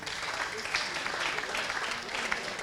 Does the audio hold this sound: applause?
yes